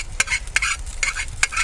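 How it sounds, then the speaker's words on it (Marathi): Cumin and mustard seeds tempering in hot oil with turmeric, red chilli and masala, crackling in sharp, irregular pops over a steady low sizzle, close and moderately loud, at a camp stove in Pin Valley. "जिरे मोहरीची फोडणी, हळद, थोडंसं लाल तिखट आणि घाटी मसाला एवढं घातलं झालं."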